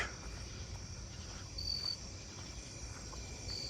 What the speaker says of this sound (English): There's also a jumping bush cricket pretty close too.